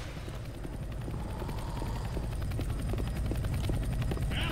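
In the Left 4 Dead 2 video game, a helicopter's rotor thuds in a steady, rapid rhythm with a constant whine beneath it, holding level and fairly loud throughout with no talk over it.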